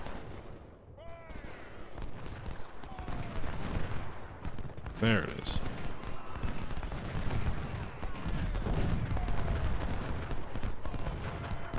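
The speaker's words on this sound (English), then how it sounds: "How can you not see the canister shooting at you?" Video game battle noise from Ultimate General: Civil War at Culp's Hill, Gettysburg, with repeated booming canister cannon shots and scattered gunfire over a steady din, and someone briefly speaking.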